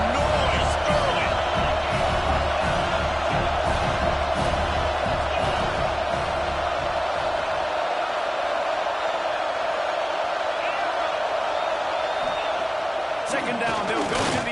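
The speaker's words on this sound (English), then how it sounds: "This crowd bringing the energy and noise early." A large football stadium crowd roars in a dense, continuous wash of noise that stays loud throughout, with scattered thumps and bursts of cheering in the mix.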